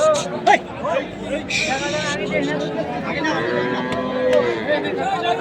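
Cattle at Ambari livestock market, a haat selling large bulls for Qurbani, with faint lowing mixed into a steady crowd hubbub and people talking close by throughout.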